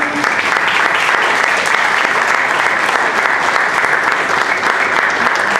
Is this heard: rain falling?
no